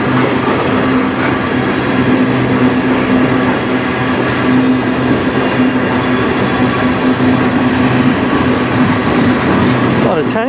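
A long CN freight train of tank cars rumbles steadily past nearby at night in Sarnia, Ontario, cars rolling with a continuous heavy roar and faint rhythmic wheel clatter; a voice is faintly audible underneath.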